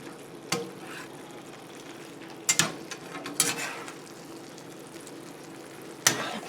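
Meat and vegetables fry in a pan under a soft continuous sizzle, broken by several sharp scraping clatters as a utensil stirs them around.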